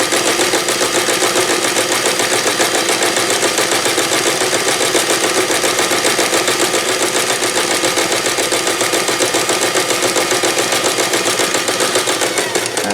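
A sewing machine runs a straight stitch of about 2.75 mm along the seam of a fabric drawstring bag. Its rapid, even mechanical chatter is close and loud and continues without a break throughout.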